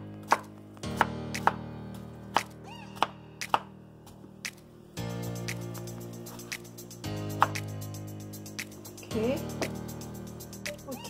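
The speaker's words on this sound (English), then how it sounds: "Okay, just chop tomato." Knife chopping tomato on a cutting board for a steamed red snapper dish, with repeated sharp taps in uneven bursts while someone talks over a steady background hum.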